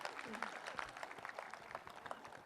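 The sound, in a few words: audience applause at a comedy show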